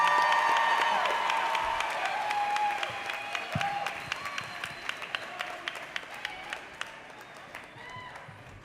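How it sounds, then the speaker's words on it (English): Audience applause at an evening plenary session, dense and loud at first, then thinning into scattered individual claps and fading toward the end, with some crowd murmur underneath. "Let's give her a big round of applause"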